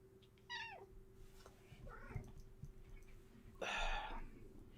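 A cat at a workbench meows several times, short rising-and-falling calls spaced out over a few seconds with a louder, breathy one near the end, above a steady electrical hum.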